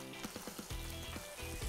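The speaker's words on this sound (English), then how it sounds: "A bit sizzling." Tomatoes sizzle in a hot frying pan, a soft continuous crackle with faint pops, close and alone.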